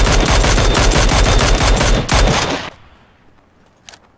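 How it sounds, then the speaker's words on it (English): Rapid automatic gunfire from PUBG, a battle royale video game, rattles loudly and continuously for about two and a half seconds, then cuts off, leaving a faint background and a single brief sound near the end. "You can probably shoot through that."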